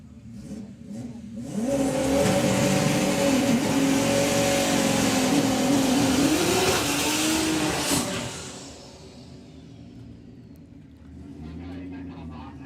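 A VR6-powered altered drag racing car at a drag strip builds from idle into a loud, sustained engine roar with rising and falling pitch, then fades away, leaving a lower rumble. A commentator's voice talks under and around the engine noise.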